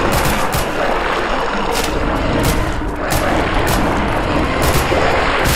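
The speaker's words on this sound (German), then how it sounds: "Okay, 3 Schüsse." Dense, continuous gunfire from a first-person shooter video game, a steady barrage of loud crackling shots with sharp bursts recurring throughout, no talking.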